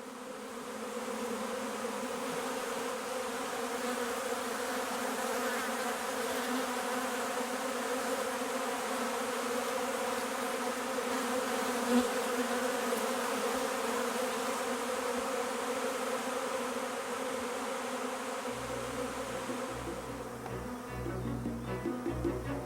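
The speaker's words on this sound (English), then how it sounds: "The swarm, with the queen in its midst, rises from the box and continues its journey to a new, unknown destination." A honeybee swarm with its queen lifts off from a hive box, a dense, steady buzzing hum of many wings that fills the whole stretch evenly and without pause.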